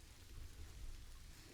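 Steady rain falls in the Planet Zoo video game, a soft, continuous hiss with low rumbling underneath, heard alone at a faint level.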